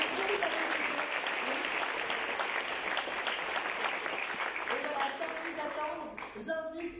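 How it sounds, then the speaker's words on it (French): An audience at a festival closing ceremony applauds loudly and continuously, a dense roar of clapping that thins toward the end as a voice begins. "On applaudit bien fort."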